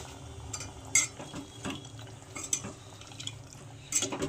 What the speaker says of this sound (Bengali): সেই গাবলাটা দিয়ে একটু জল দিয়ে দিলাম